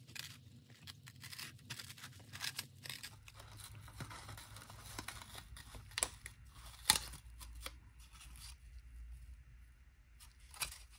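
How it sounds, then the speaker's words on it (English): A blade cuts around the voice coil of a loudspeaker to free a section of the paper cone, producing quiet, irregular crunching and tearing snips with occasional sharper cracks, close and faint. "let me go ahead and cut around the voice coil and see if I can remove that section of the cone"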